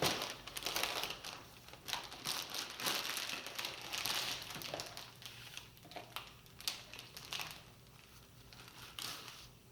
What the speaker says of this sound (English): Pull out all the extra paper.